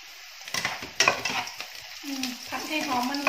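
Potatoes being stir-fried in a pan with a spatula, a scraping, sizzling clatter with sharp strikes of utensil on metal and a steady frying hiss, close and moderately loud.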